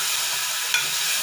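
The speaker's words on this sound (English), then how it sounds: "I'll be putting in the garlic ginger paste. Give it a nice stir." Garlic ginger paste fries with softened tomatoes in a pan, giving a close, steady sizzle, with one brief scrape of a spoon stirring midway.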